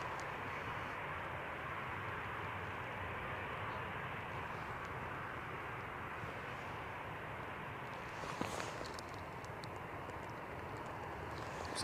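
EasyJet and Jet2 airliners at Manchester Airport on a stormy day produce a continuous broad jet-engine roar that holds level throughout, with a brief rattle near the end and no talking.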